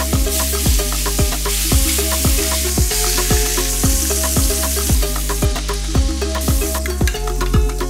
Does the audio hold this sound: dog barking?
no